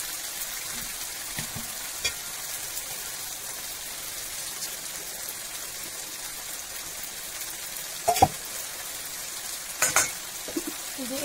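Meat frying for biryani in a pot: a constant soft sizzle, close, with occasional scraping stirs and a couple of louder clatters near the end.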